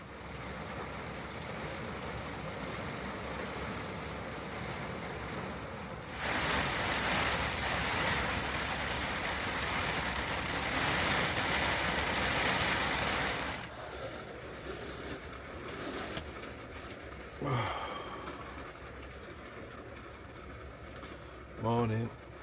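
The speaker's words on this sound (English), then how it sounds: "it was very noisy last night with the rain and the wind" Rain and gusting wind batter a vehicle parked overnight in bleak northern country, a steady rushing roar that surges into a heavier, louder stretch midway before easing back with scattered bumps.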